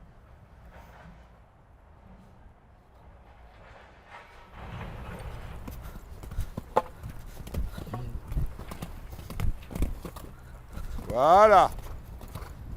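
A horse in show-jumping training works down a grid of obstacles, its hooves giving soft rhythmic clip-clops that grow closer and louder midway, with a coach talking over them and a sharp vocal sound near the end.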